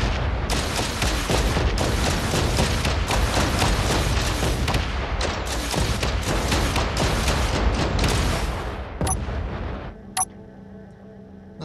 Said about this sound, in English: Let's go ahead and let loose with our rocket launcher here